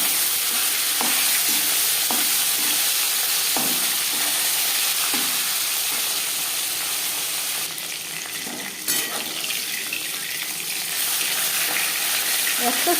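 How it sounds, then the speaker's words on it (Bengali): Tilapia pieces coated in salt and turmeric fry in refined oil with a loud, steady close sizzle, punctuated by occasional utensil clinks and a brief shift as pieces are handled. "একটা সাইড ভাজা হয়ে গেলে অপর সাইডটা উল্টে দেবো।"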